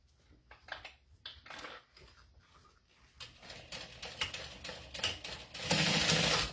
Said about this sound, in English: We're going to top stitch.